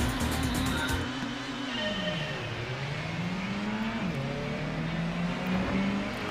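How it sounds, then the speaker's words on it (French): Engine drone of cars in the 1998 PlayStation racing game Gran Turismo, a steady buzzing hum whose pitch rises and falls with gear changes and acceleration, continuous and loud throughout with no talk. "elles font vraiment toutes le même bruit, les bagnoles"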